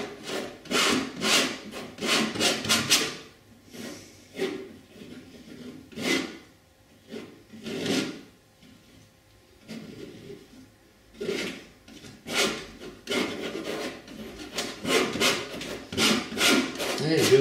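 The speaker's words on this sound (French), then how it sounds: "Et je gratte pour que l'épaisseur soit vraiment faible" A tool scrapes excess paint off a painting of poppies, thinning the layer in repeated rough, rasping strokes. The strokes come in close bursts with short pauses between them, and no voice is heard.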